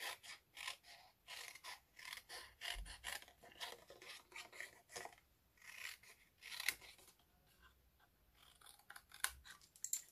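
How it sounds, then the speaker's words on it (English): Paper snips cutting paper, a series of close, quiet crisp snips and rasping slices in irregular bursts with short pauses between, no talk. "I'm going to get my paper snips."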